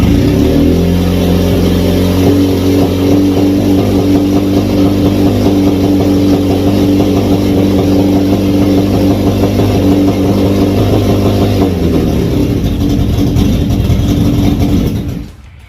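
Suzuki GSX1100 Katana motorcycle engine fitted in a crazy cart, held at a loud steady high rev for about twelve seconds, close up, then dropping back toward idle and cutting off.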